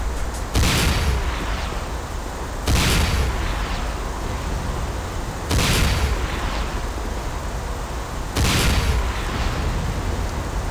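Four heavy, booming gunshots from the video game Command & Conquer: Renegade, spaced a couple of seconds apart, each followed by a rumbling decay, with no talking.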